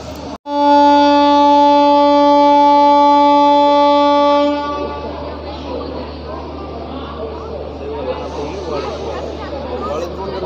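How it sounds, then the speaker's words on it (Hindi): The 22934 Bandra SF Express, leaving Kota station, sounds a long, loud horn blast for about four seconds, close by. Station crowd chatter and rolling train noise continue beneath as it ends. "डिपार्चर स्टार्ट हो गया कोटा से।"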